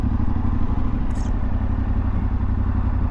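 A 2024 Yamaha Tenere 700 adventure motorcycle being ridden and slowing down: a loud, steady, close engine drone with a rough, throbbing rumble that runs unbroken throughout.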